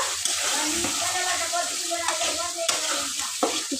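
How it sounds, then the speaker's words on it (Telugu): A spoon scrapes and stirs through chicken sizzling in a pan, with steady frying hiss and occasional clinks against the metal. "ఇప్పుడైతే పెద్ద మంట మీద పెట్టేసి ఒకసారి అయితే కలిపేస్తా"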